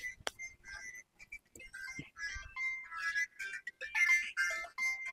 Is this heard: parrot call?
no